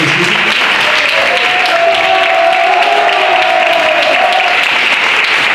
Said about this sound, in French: Un applaudissement pour Thomas Pijouet